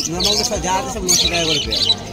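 Harsh, repeated squawks from hand-tame pet birds close by at an exotic bird market in Kolkata, several calls in quick succession, overlapping with someone talking.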